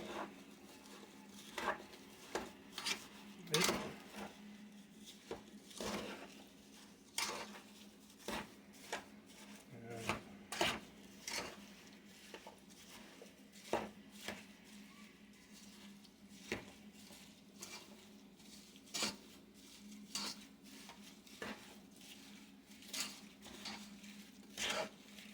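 Strawberry rhubarb pie filling gets mixed in a bowl, with soft irregular scrapes, taps and wet clinks of a utensil against the bowl, faint and close, while someone talks at times.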